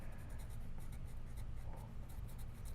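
A pencil draws perspective lines for a two-point perspective cube on paper, giving a steady, close scratching that runs continuously through the clip with short strokes audible on top.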